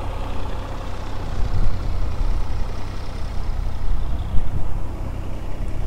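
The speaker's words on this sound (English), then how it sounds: "I'm just gonna wait for the tractor to go." A tractor passes by outdoors, its heavy low engine rumble steady and fairly loud throughout with no talk, swelling slightly as it nears.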